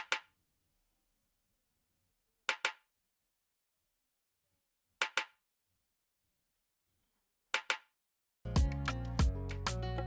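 A sampled snare drum in a beat is struck four times at steady intervals, each a sharp, close crack with a quick flam-like double hit, over near silence, before a dense burst of music comes in at the end.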